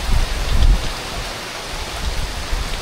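Strong wind and heavy rain roar on a mountainside, a dense steady wash of noise that swells in gusts, with no voices during the stretch.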